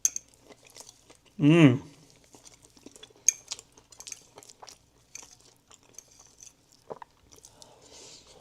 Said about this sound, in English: Time for another piece of pie. If I can get it onto my fork.